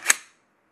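A Glock pistol gives a single sharp dry-fire click as its striker snaps, close and crisp, then fades quickly into silence.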